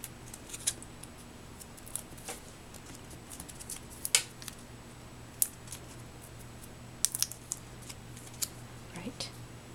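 Scissors cut paper for a beach-themed wedding card, making a series of crisp, close snips scattered over a low steady background hum.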